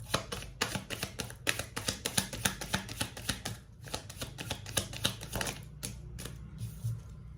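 Tarot cards shuffled close up in rapid, rhythmic bursts of crisp riffling clatter, pausing briefly before a few final taps, with no talk.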